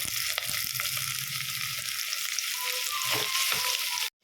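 Steady sizzling of large onions frying in hot oil for a goat intestine gravy, a dense crackling hiss that holds for about four seconds with faint stirring knocks, then stops abruptly.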